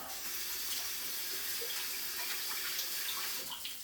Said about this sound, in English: I'll just quickly rinse that